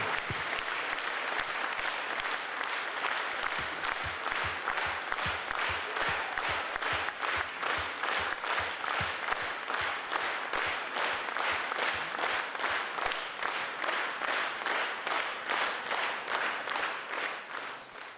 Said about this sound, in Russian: Көчлі алқышлар, достар, ваши аплодисменты